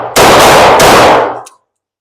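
A double-action revolver fires a close, very loud shot, then a second report follows almost at once, and both ring out and fade into silence.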